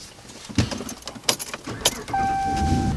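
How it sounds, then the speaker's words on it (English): Car keys jangle in a few quick bursts before a car's electronics power on with a steady tone and a low hum. "Here, let me turn the car on."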